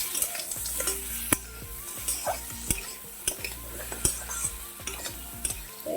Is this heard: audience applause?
no